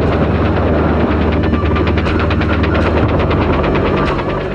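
Rapid machine-gun fire from an M60 mounted on a Bell UH-1 Huey helicopter, a steady dense stream of shots over the throbbing rotor and engine roar, loud and continuous throughout.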